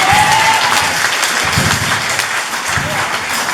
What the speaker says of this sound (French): Frappez-moi, applaudissez-moi,